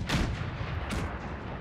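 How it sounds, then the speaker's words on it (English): Cannons fire in Napoleon: Total War, two booming blasts about a second apart with rumbling tails over a dense battlefield din. "friendly cannons fired upon me"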